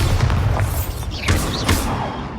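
A Bombarda blasting spell in Hogwarts Legacy, heard as a dull booming blast over a busy layer of game effects, with a couple of sharp whooshing bursts partway through.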